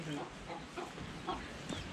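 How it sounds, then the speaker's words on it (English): Chickens cluck in a rural Vietnamese mountain village, a scattering of soft, short clucks at moderate distance over steady outdoor ambience, with no one talking. "Little chickens."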